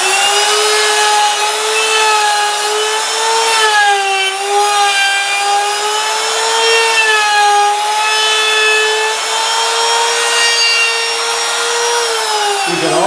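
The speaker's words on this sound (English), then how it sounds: "bring the router around." A wood router cuts flutes into a turned wooden bowl, guided along a clamped plywood jig, giving a loud, steady, high-pitched whine that shifts slightly in pitch as it moves and drops away at the end.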